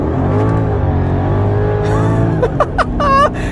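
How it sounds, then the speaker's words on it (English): A Mercedes E55 AMG wagon with a 550 horsepower engine, heard from inside while driving as a loud, steady engine drone that climbs in pitch, with brief sharp bursts near the end. "So what's it like driving a 550 horsepower AMG station wagon?"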